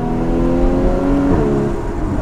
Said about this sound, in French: On entend que ça glougloute derrière et c'est pas du pop and bang artificiel. Là c'est un vrai son moteur.